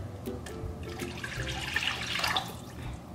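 For a pot of ramen, 300 ml of water pours into a pot close up, a splashing, gurgling stream that swells and fades over a few seconds with no talk.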